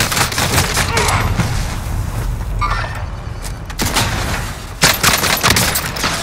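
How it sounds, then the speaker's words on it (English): Loud bursts of automatic gunfire and heavy booms in a night-mode Warzone battle royale match on Rebirth Island, rapid volleys repeating in clusters, with dense in-game sounds between them. "Receiving hostile fire."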